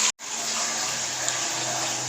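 A pot of water coming to a boil on the stove, a steady close hissing and bubbling rush after a brief cut near the start, even and alone.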